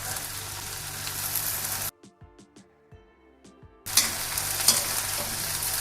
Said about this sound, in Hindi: गोभी डालने के पश्चात इन दोनों को मिक्स कर दिया।